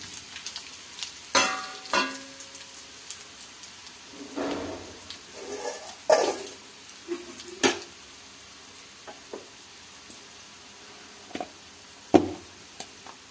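Red chillies sizzle in hot oil in a pan, with a soft steady frying hiss broken by irregular clinks and scrapes of a spoon stirring, close up and without talk.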